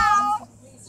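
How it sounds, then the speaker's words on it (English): A cat in a Roblox game gives one short, close, fairly loud meow lasting under half a second, then fades into quiet background. "Stop meowing!"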